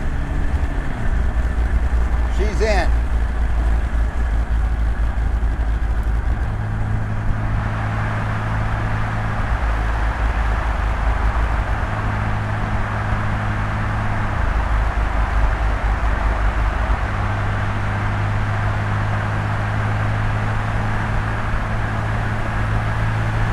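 A 1968 MG MGC driving with a steady low engine drone and road rumble, the note stepping down as it shifts into overdrive, loud and close inside the car, with a brief spoken remark near the start.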